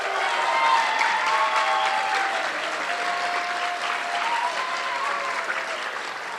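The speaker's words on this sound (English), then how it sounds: "About a round of applause for Gavin and for Gavin." Applause for two student award winners at an eighth grade recognition ceremony, a full, sustained round of clapping from a large audience, with faint voices underneath.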